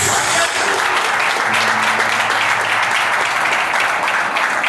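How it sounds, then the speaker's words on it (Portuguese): Church congregation applauding at a Sunday service, steady dense clapping filling the whole stretch at full loudness, with a faint voice underneath. "dê um aplauso ao nosso Deus"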